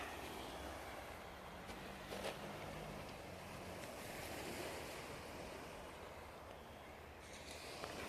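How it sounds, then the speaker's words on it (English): Waves break steadily on the beach at Pevensey Bay, a constant wash of surf with some wind noise and no voices. "Another place, another beach."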